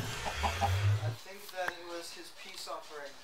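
Chicken clucks in the Minecraft video game, a few short clucking calls heard under and between a person's speech, moderately loud and close.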